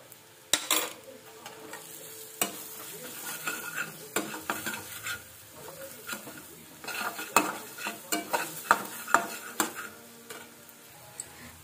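Butter garlic egg sauce being stirred in a pan, a steady sizzle broken by repeated scraping and clinking of a spoon against the metal, growing busier toward the end with no voices.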